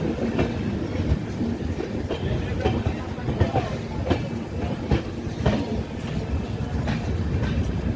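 The Vikramshila Express pulls into Kiul station running five hours late, with a rumble of wagons and intermittent wheel clacks heard from on board, faint voices occasionally under the rolling noise.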